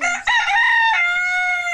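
A rooster crows once, close and loud, a full rising-then-held cock-a-doodle-doo call recorded outdoors on a holiday in Suriname, with no talk over it.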